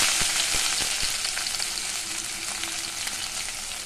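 Shallots, ginger and garlic fry in hot oil with a constant bright sizzle, punctuated by several sharp clicks and scrapes of stirring in the pan at the start.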